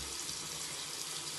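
A shower running in a bathroom, a steady broadband hiss of spraying water that continues evenly throughout at moderate loudness, with no talking.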